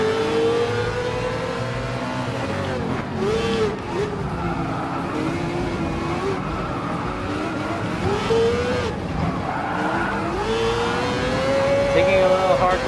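A Mazda 787B prototype racer in Gran Turismo Sport laps Interlagos, its engine note steady and loud throughout, rising and falling in pitch through gear changes and corners, with brief tyre squeal and someone talking over it.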